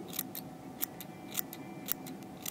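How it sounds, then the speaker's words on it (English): Scissors snip at a fly-tying popper body held in a rotary vise, trimming a taper toward the tail; four crisp, evenly spaced cuts sound close and quiet over a steady low background hum. "Thrust the scissors right up even and make a cut towards the back of the tail so it has a taper."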